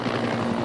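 Firefighting helicopters flying over a bushfire give a steady, loud rotor drone with constant throb, close and unbroken for the whole moment.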